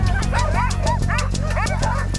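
Sled dogs in snowy Arctic Sweden yip and bark eagerly in a quick, repeated burst of high calls over a steady low rumble, close and fairly loud, with no talking.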